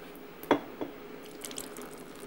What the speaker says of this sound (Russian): Фонтан начинает работать.